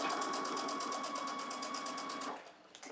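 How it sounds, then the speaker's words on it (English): A sewing machine top stitching a fabric face mask runs at a steady fast whirring pace with even needle ticks for about two seconds, then stops, leaving a few faint clicks. "I'm gonna top stitch as usual until I get to the pin."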